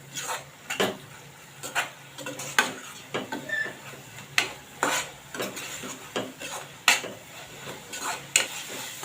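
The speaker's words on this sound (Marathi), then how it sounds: "आता हे मसाले चांगले परतून घेऊया मसाले चांगले परतायचे चांगले तेलावर घालून घ्यायचे" Spices such as coriander powder and garam masala being sautéed in oil while a spoon scrapes and stirs the pan in repeated sharp clinks, over a soft steady sizzle, close and with no voices.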